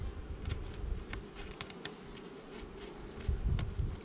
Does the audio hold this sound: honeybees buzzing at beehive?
yes